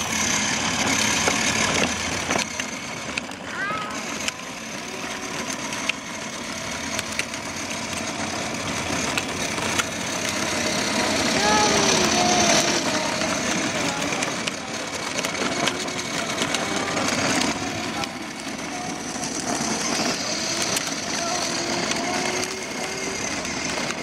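A kids' 6V electric ride-on scooter drives steadily outdoors. Its motor gives a continuous whirring buzz, loud and close, that runs the whole time with slight wavering and no talk over it.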